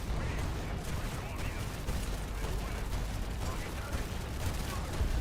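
Aircraft strafing fire in a video game, a dense continuous rattle of rapid gunfire with low rumbling under it, steady and fairly loud throughout with no clear breaks.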